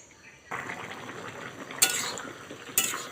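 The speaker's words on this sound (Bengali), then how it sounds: "তো এটাকে একবার নাড়িয়ে দিচ্ছি" Papaya curry stirred in a pot partway through boiling, starting after a quiet moment with soft bubbling and scraping, broken by two brief bright metallic clanks of the spoon against the pot rim.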